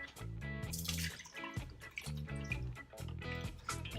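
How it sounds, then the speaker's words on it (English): Juice poured into a blender for an acai smoothie bowl, a close, continuous gurgling splash and trickle of liquid with bubbly pulses, alone without talk. "we're gonna put our juice in first."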